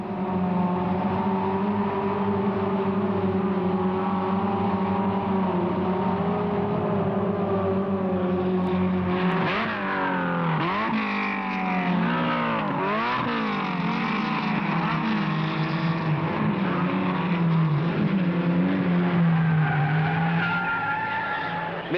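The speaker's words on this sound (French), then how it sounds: "Premier tour, pare-choc contre pare-choc, c'est l'épreuve de vérité pour la meute des voitures bleues" A pack of Renault R8 Gordini racing cars roar together bumper to bumper in a loud sustained drone, engines rising and falling as they pass, with tires squealing and skidding midway.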